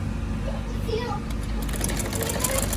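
A sewing machine runs a stitch along a sleeve placket, a steady close mechanical whir with a faint voice and light clicks over it.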